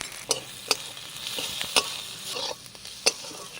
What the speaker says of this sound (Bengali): হালকা করে নেড়ে নিয়েছি